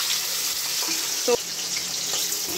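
Fish and a fish head fry in hot oil, giving a steady, close sizzling hiss with an occasional faint clink.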